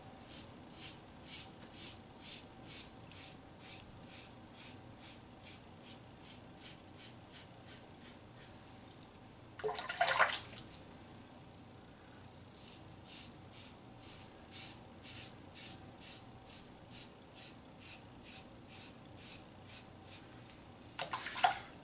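A safety razor scrapes across B&M Reserve Fern lather against the grain in rhythmic, close strokes of repeated short bursts, with a brief louder rinse-like splash midway and no talking.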